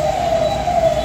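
An ambulance siren passes on a Kolkata street, a steady wailing tone holding for the whole second with no voices over it.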